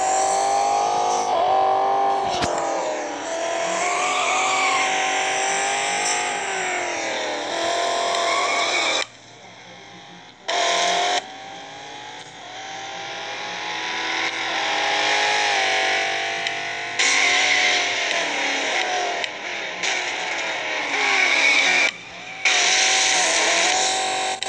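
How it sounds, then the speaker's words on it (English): A Lexus IS F or Dodge Charger SRT8 drifting at a motorsport event, with a loud, sustained, wavering engine roar and tire squeal that drops out briefly several times before surging back. "That was a clean drift."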